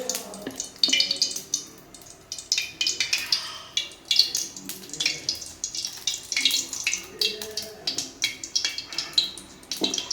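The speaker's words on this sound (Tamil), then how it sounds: "தேவையான அளவு எண்ணெய் ஊற்றியாச்சு" Steady crackling and splashing hiss close by as cooking oil is poured into a hot pan, with sharp pops scattered throughout.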